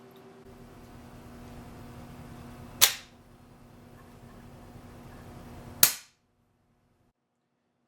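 Two sharp, loud shots from an EDgun Lelya .20 air rifle fired indoors, about three seconds apart, each a crisp crack with a short decay over a low background hum.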